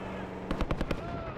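Gunfire in the Call of Duty Black Ops 6 video game, set among desert dunes: a short burst of about five rapid shots, fairly close, over a steady background rumble.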